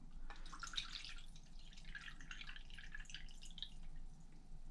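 Water poured into a small 1-cup measuring cup from the base of a JetBoil stove, a steady trickling pour with light dripping that runs close and continuous throughout.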